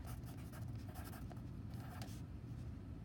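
Pen or pencil writing out a sentence by hand, a soft steady scratching close by over a low rumble of road traffic in the background, with no talking.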